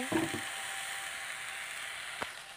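Taro stems cook in a pan with a soft continuous sizzle, a few faint stirring scrapes at the start and one sharp knock of the utensil near the end.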